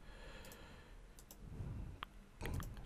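Computer mouse clicks while editing a thumbnail in Canva, a few sharp, quiet clicks scattered irregularly over a faint background hiss, with no talking.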